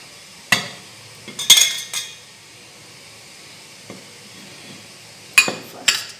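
Coconut is added to rice powder in a bowl, with a few sharp clinks of a spoon against the bowl separated by quiet pauses and light scraping.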